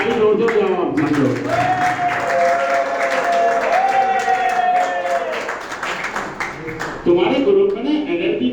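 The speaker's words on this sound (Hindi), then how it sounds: "ताली बजाओ" Audience clapping steadily during a motivational session on addiction and family relationships, with voices talking and calling out over the applause and a louder burst near the end.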